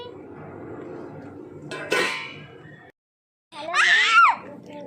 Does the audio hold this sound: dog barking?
no